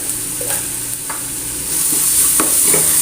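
Garlic, shallots and crushed chili fry in hot oil with a steady, close sizzle, broken by a few scraping stirs of a spoon; the frying grows slightly louder toward the end.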